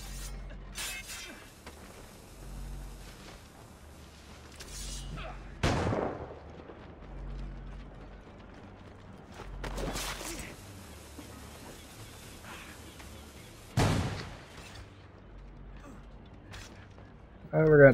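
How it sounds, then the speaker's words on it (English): Explosions and cannon blasts in Assassin's Creed Black Flag during a naval battle, several sharp booming bursts spread across the scene, with someone talking over the game sounds. "That's a big explosion."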